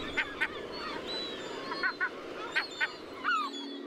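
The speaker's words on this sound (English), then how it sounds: "The mother herring gull yows an alarm." A mother herring gull guarding her young from a neighboring black-backed gull gives repeated alarm calls, sharp paired yelps in a loose rhythm, fairly near, ending on a longer descending mew.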